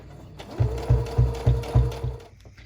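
A sewing machine stitches a quilt block in five or six quick bursts, each a low mechanical whirr of the needle and motor, close up and fairly loud with short pauses between runs.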